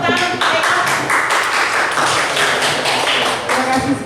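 Clapping from a school staff audience for Pak Eko at SMP Negeri Gading Kaca, a loud, dense burst of many hands applauding steadily throughout, close and continuous.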